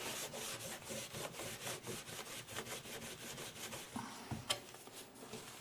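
Repeated rubbing strokes from cleaning Commodore 64 keyboard parts with 70% alcohol, a steady back-and-forth scrubbing rhythm, close and fairly quiet, with no talking.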